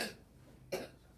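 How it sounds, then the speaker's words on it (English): A young child coughs during a kindergarten picture-book reading lesson, one short burst up close against quiet room hiss, after a brief sound at the start. "do you want to move away so you don't get coughed on?"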